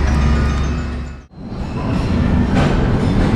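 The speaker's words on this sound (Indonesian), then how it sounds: "kereta api lokal Garut Cibatuan ini nanti melanjutkan perjalanannya itu sampai dengan stasiun Garut ya" A Garut–Cibatuan local passenger train in Indonesia running loudly and close, with a heavy low rumble of wheels and carriages and a brief dip in the noise partway through.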